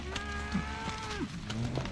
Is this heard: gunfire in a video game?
no